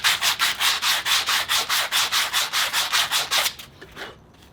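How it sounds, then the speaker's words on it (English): Sandpaper on a foam block rubbed back and forth inside an aluminum car part, about fifteen quick, even raspy strokes at a steady rhythm, close and loud, then a couple of softer strokes as it stops. "Try to deburr the inside of this thing a little bit."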